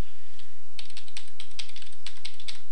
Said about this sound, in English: a window here and type the router's IP address